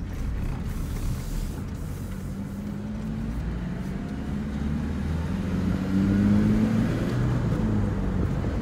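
A manual-shift Chevrolet S10 Blazer drives along steadily, its mid-pitched engine hum building slightly as the revs climb midway, heard from inside the cabin with no talk.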